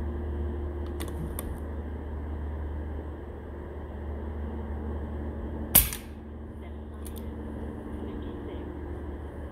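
An Airforce Talon SS air rifle regulated to run on a 4500 psi paintball tank fires a pellet, making one sharp, close crack midway through over a steady low background hum, with a couple of faint clicks around it.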